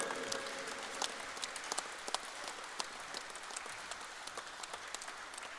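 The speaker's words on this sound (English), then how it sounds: "Once again, your applause has to be like the previous ones." An audience at a rugby sponsors' felicitation ceremony at St. Peter's College claps in faint, distant applause, a thin patter of scattered claps with sharper individual hits standing out.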